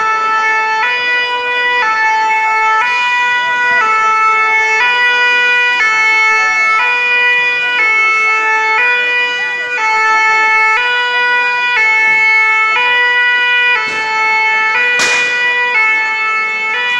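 A loud two-tone fire engine siren at a fire on avenue Foch, Paris, alternates steadily between high and low pitches, close by and continuous, with a sharp bang near the end.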